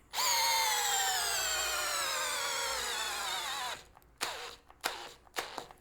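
A Greenworks 24V brushless drill driver bores into wood, its motor whine loud and steady for nearly four seconds and sliding slightly in pitch, then a few short bursts of the trigger follow, with no talk.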